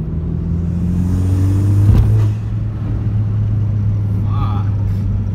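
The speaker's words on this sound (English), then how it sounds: "So here's the third gear pull." A 10th-generation Honda Civic Si with a PRL Cobra cold air intake pulling hard through third gear, a loud, close, rising engine drone and intake rumble that peaks and then drops back as it shifts.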